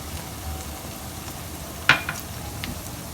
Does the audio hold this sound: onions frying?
yes